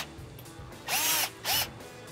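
A power tool briefly runs twice while torquing roof rack bolts on a Land Cruiser 100 Series, two short whirring bursts close by with a quiet gap between them.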